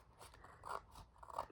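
Paper is snipped by a cutting tool in a few quiet, crisp cuts, faint and close.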